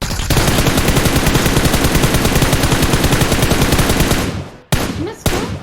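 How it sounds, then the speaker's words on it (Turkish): Sustained automatic gunfire sprays in the PUBG Mobile video game, a loud rapid burst of shots lasting about four seconds, then a brief cutoff followed by a couple of short final bursts. "Vallahi 300 metre çok iyi sprey attım"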